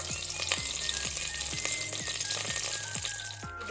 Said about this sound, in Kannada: ತುಪ್ಪ ಬಿಸಿಯಾದ ನಂತರ ಈಗ ಒಗ್ಗರಣೆ ಸೊಪ್ಪು, ಕರಿ ಲೀವ್ಸ್